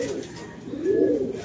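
Pigeons coo close by in a short burst, a low throaty warble that swells toward the end, with faint background noise and no speech.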